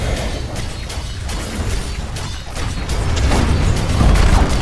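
A tower being destroyed in a Dota 2 match, heard as a dense wash of crashing, crumbling game effects and bursts that builds in loudness toward the end, with no talk over it.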